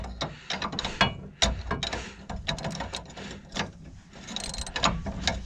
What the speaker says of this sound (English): I'm gonna get the wrench, I believe that's a 3/4 inch, get it on there and get these things tightened up